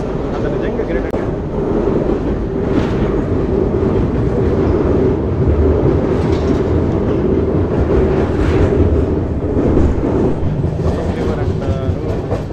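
Bengaluru-Tirupati Intercity Express, train 22618, rolling at speed, a steady loud broadband rumble with faint rhythmic clatter and wind noise, heard from inside a coach.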